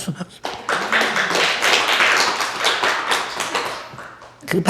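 A church congregation claps together during a sermon, a steady run of sharp, dense handclaps lasting several seconds before briefly dying down and starting again.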